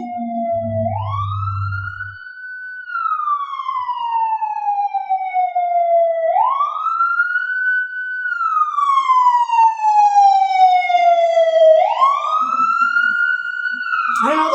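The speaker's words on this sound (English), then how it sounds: "There's just something about those sirens when I'm hearing them." A loud wailing siren rising and falling in slow sweeps, steady and close, with a brief low rumble at the start.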